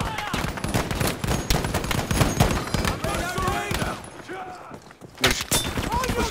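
Gunfire in Battlefield 5, dense rapid automatic bursts rattling almost nonstop, loud and close, with a brief lull near the end before shooting resumes, while voices shout over the fighting.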